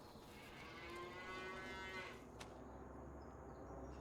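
Cattle mooing in Farming Simulator 25, a long drawn-out low moo rising and fading over a quiet farm ambience, fairly faint and alone.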